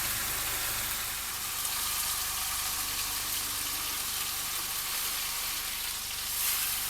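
Beef sizzles steadily on a hot grill, a dense crackling hiss that continues without a break.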